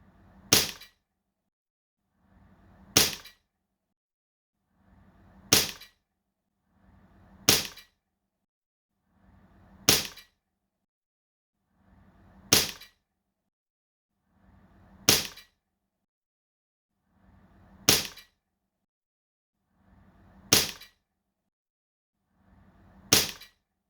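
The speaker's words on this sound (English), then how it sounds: "I'm going to shoot from 8 meters away, and my gun will be leaning on a table to get the best results." An Umarex airsoft pistol fires ten sharp, evenly spaced shots about every two and a half seconds during an accuracy test from 8 meters, each a crisp isolated crack with silence between.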